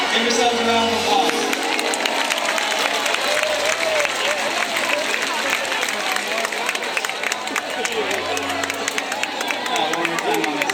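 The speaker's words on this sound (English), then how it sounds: "Give yourselves a round of applause." A large crowd in the stands at a SeaWorld San Diego orca show applauds loudly and continuously, with chatter and cheering mixed into the dense clapping and voices underneath throughout.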